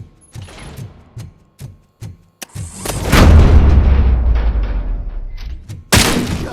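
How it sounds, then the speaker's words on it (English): Gunfire in the video game RoboCop: Rogue City, starting as a string of sharp separate cracks, then a heavy booming burst that rumbles on, ending in another loud blast. "Am I hearing gunshots?"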